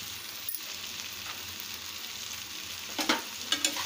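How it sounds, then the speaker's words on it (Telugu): Tomatoes fry in a pan on a tawa with a steady, moderate hiss. A few stirring clinks and knocks come near the end. "టమాటా కూడా బాగా వేగనివ్వాలి."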